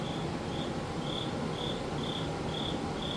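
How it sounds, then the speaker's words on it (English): A cricket chirps inside a house basement, its short high trills repeating steadily about every half second over a constant low background hum. "I can definitely hear that cricket in there"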